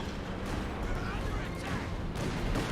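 A 10.5 cm howitzer barrage in Company of Heroes 2 roars as a dense, continuous wash of rumbling artillery blasts, loud and sustained throughout.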